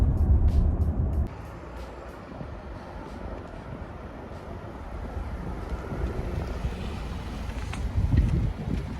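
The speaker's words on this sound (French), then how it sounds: "j'accélère un peu fort, je vais donc démarrer le moteur thermique pour que la voiture ait une vraie puissance d'accélération" A Range Rover Sport 2.0 PHEV 404 hp HSE with automatic gearbox switching on its petrol engine under hard acceleration: a loud low rumble at the start, a steadier drone under wind noise, then a rising surge near the end.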